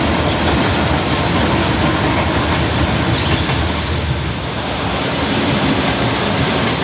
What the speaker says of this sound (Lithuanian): Mūsų pokalbį senelių namų kiemelyje toks traukinio garsas nutraukdavo kas keliolika minučių.